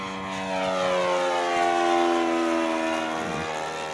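An O.S. 61 four-stroke glow engine on a Great Planes Sport Corsair 40 semi-scale F4U RC model plane runs loud and close as a steady, throbbing drone, swelling slightly and easing off, with no talk.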